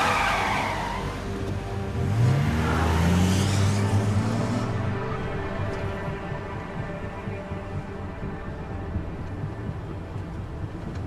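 A car pulls away with a brief tire squeal and a rising engine note, then its sound fades into the distance, leaving a quiet background.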